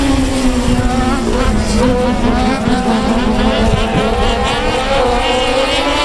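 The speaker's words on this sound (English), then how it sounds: "Here we go. We're racing." Race cars roaring around the oval at South Texas Speedway, a loud sustained pack of engines with rising and falling pitch as they pass, continuous and dense with no break.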